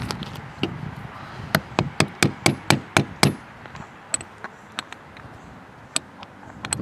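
A 1/4 inch nut driver, struck with pliers, taps a new needle seat into a Briggs carburetor. A quick run of about eight sharp, close metallic taps is followed by a few slower, softer knocks.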